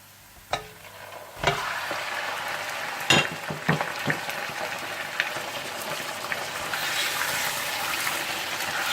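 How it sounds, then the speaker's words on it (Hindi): Mutton pieces are stirred into golden brown fried onions for a kabsa, with several loud clangs and scrapes of a utensil at first, then a lighter ongoing sizzle and occasional knocks. "जब प्याज खूबसूरत से गोल्डन ब्राउन हो जाए तो आप इसमें मटन डालकर मिला लीजिएगा।"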